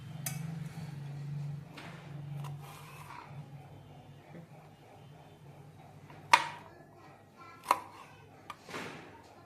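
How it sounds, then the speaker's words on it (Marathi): Okra being cut lengthwise with a knife on a board, with a few separate sharp chopping taps and knocks, fairly close, over a quiet low hum. "भेंडी चिरून झाली आहे, छान उभी चिरून घेतली"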